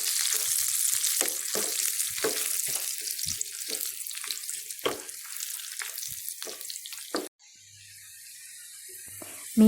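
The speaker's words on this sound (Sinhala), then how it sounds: "සියලි මිරිස් කරල් 3කුත් තෙම්පරාදුවට එකතු කරගන්නවා." Three dried red chillies crackling in tempering oil for a Sri Lankan dhal curry, a loud, busy sizzle with sharp pops that suddenly drops to a much quieter hiss near the end.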